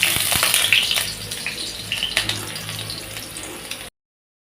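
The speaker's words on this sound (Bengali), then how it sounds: "আলু কটাকেও ভেজে নেব" Potato pieces fry in hot oil for a Bengali chhana dalna. The sizzle is steady, hissing and close, with a few faint clinks, and it stops abruptly near the end.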